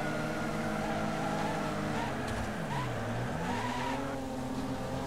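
Car braking hard in the racing video game Wreckfest, engine roar dropping and rising over a drawn-out tire squeal and skid, loud and continuous.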